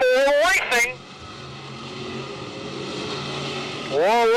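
Race cars on an oval track at a championship night race, engines droning steadily at a distance between bursts of loud commentary at the start and end.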